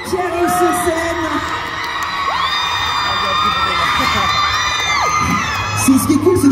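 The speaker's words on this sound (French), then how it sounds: "Ce qui est cool, c'est que je n'ai même pas besoin de vous demander de les applaudir, c'est fait." A Paris manga convention crowd cheers and whoops for Project Sekai cosplay performers arriving on stage, loud excited shouts and high-pitched yells sustained throughout over a busy hall din.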